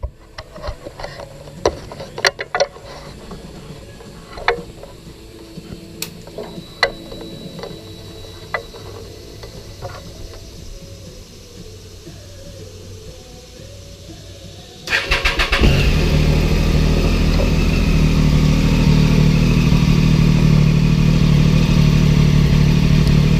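Triumph Daytona 675 motorcycle engine cranks with clicking relay and starter whirs, then catches at about fifteen seconds and settles into a loud, steady idle that runs on alone to the end.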